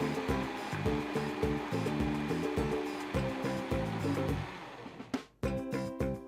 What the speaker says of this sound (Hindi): अदरवाइज इसको थोड़ा सा और ब्लेंड कर देते हैं। तो जब तक इसको थोड़ा सा ब्लेंड करेगा,